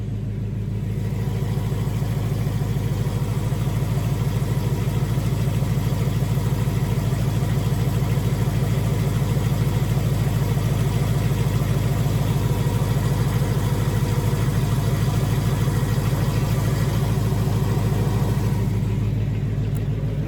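A supercharged 2018 Ford Mustang with a Stage 2 Whipple, warmed up and idling on a dyno: a steady, close, loud low rumble that holds evenly throughout with no revving.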